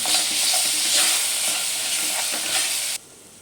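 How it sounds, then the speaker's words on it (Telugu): Ginger-garlic paste fries in a pan for keema curry, a loud, dense sizzle with stirring scrapes that runs steadily and then cuts off abruptly near the end. "ఇలాగా ఒక 1 minute అల్లం వెల్లుల్లి పేస్ట్ వేసుకుని ఫ్రై చేసుకున్న తర్వాత"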